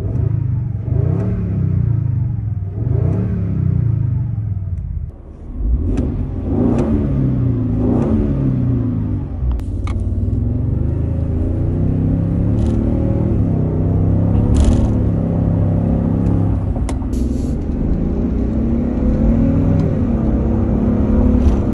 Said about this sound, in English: here's how this truck sounds with the V8 sound and then without the